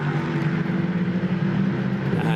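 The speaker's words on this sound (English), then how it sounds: "you can hear the rumble of the engine" Onboard a prototype race car at Hockenheim during a race, the engine gives off a loud, steady, droning rumble with strong low tones that holds throughout.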